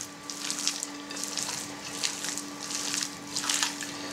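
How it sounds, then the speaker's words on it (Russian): Meat being mixed by hand for a Georgian-style dish with sour cream, giving wet, squishy rhythmic squelches in a few repeated pulses, close and moderately loud, with a faint steady hum behind. "Вот так вот, друзья, перемешаем хорошенько мяско."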